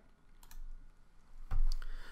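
Computer keyboard keys are pressed a few times, sharp clicks and taps coming in small clusters near the start and again toward the end over a quiet room background, with no talking.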